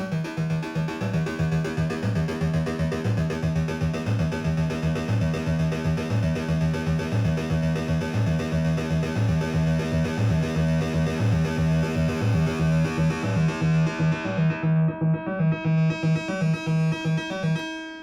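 A dense, distorted Behringer Crave synthesizer tone with FM pulses steadily with a rich, buzzing metallic timbre and wash of reverb, the high end sweeping down and back near the end.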